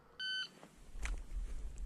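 A shot timer gives a single short electronic beep during a handgun qualification drill, followed by a low rumbling scuffle and a few sharp knocks.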